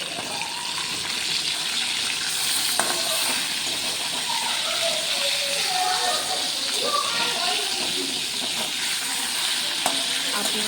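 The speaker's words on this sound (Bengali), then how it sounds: "খুব কষ্ট করে মাছ ভাজছি" Fish sizzling and frying steadily in a pan, a continuous hiss with occasional stirring scrapes, close and fairly loud throughout.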